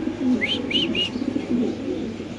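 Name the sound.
pigeons cooing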